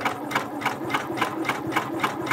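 A Janome MB4 embroidery machine stitches a zigzag underlay in a fast, even mechanical rhythm of needle strokes, close and loud, with no talking.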